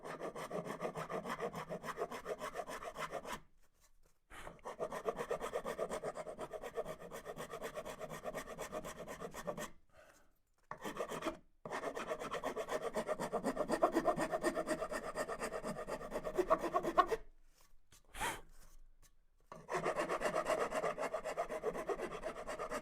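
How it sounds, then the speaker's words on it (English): A round file rasp files down the side of a wooden guitar neck in steady back-and-forth strokes, close and fairly loud, with a few brief pauses between bursts of rasping. "I need to file this side down a little bit here with a round file, rasp, just to even up some of the line work."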